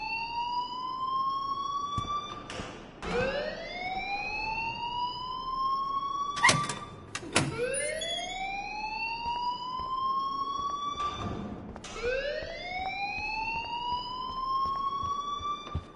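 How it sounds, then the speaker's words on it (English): An alarm rings in the video game Life is Strange, repeating a rising electronic whoop about every four and a half seconds. It is loud and steady, with a few sharp knocks in between. "please turn off that alarm since that's your job"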